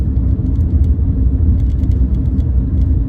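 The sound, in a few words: car road noise on rough road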